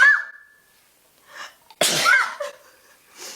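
A single loud, close sneeze bursts out alone, preceded by a short sharp intake of breath and followed by a brief fading exhale.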